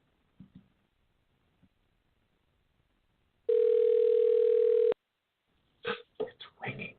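A single long ringback tone sounds steadily for about a second and a half, then a voice speaks briefly after it, with faint clicks beforehand.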